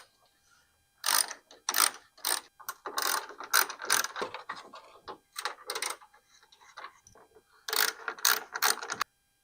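A hand ratchet removes 10mm bolts along the top of the grille on a Chevy Silverado, sounding as loud, close bursts of rapid clicking with short pauses between them.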